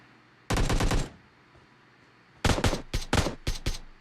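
Automatic gunfire in PUBG Mobile comes as a loud, close burst, then after a pause several shorter bursts and single shots in quick succession.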